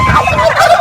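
A turkey gobbles in a short, loud burst of rapid, warbling calls, close by and with no talking.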